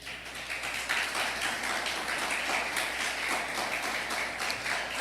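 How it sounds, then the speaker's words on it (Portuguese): A church congregation claps steadily for Jesus during a wisdom seminar, an even, moderately distant wash of many hands lasting throughout with no talk. "Vamos aplaudir o Senhor Jesus"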